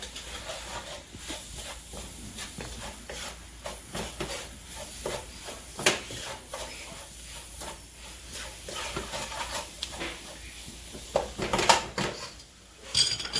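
All-purpose white flour is stirred into a hot pan of eggplant, with a spoon scraping and clinking against the pan over a steady sizzling hiss, close and fairly quiet with occasional sharper knocks.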